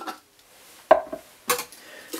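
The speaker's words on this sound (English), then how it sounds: "Gonna do a quick whisk on that" Quick whisking of a vegan jerky marinade of pepper, paprika, garlic, salt and molasses in a bowl, with a few sharp utensil clinks against the dish among quieter stirring scrapes, close and fairly faint.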